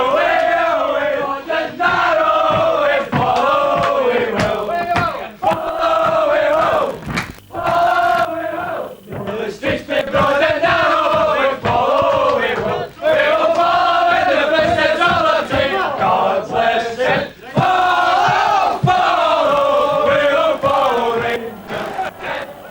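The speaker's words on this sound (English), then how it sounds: "The crowd awaited the victors" A large football crowd celebrates Rangers winning the 1990-91 championship, a loud, sustained mass of voices singing and chanting in rising and falling waves, with brief dips between phrases.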